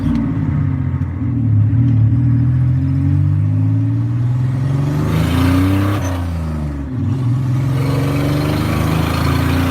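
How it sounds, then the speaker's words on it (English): A leaky V6 car engine revs hard near wide open throttle, a loud, steady, rising drone heard from inside the car. The pitch sweeps up, dips briefly near the middle, then climbs again, with no voices. "That was pretty close to wide open throttle on it, and I mean it moves good"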